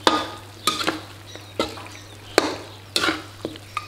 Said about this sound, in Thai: ผัดให้ตะไคร้เริ่มสุกครับ